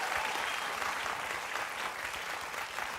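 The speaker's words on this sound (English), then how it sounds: "Do you hear the applause for the idea of a male-dominated space?" A studio audience at the Colbert show claps, a steady, dense wave of hands that holds even for three seconds with no voices over it.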